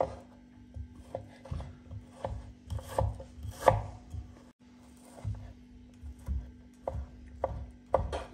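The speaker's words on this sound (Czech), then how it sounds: "Slaninu takhle na takový příjemné kostičky." A kitchen knife dices bacon into small cubes on a board, giving a steady run of close, crisp chops in loose rhythm with brief pauses and no talk.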